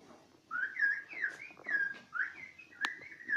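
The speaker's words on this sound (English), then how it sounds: "We have here also whistled language in the Canary Islands. There's an example, it's quite loud." Whistled language of La Gomera in the Canary Islands, heard as a recording: a string of sharp, gliding whistled syllables rising and falling in quick phrases, clear and fairly close, with no spoken voice.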